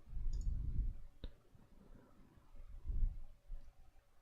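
One crisp mouse click sounds in a quiet room while editing a system path setting on a computer. Soft low rustles and desk noise come before and after it.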